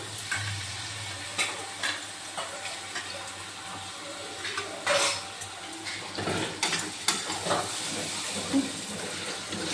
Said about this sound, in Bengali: খাসি মাংসগুলো সব দিয়ে দিলাম কড়াইয়ে।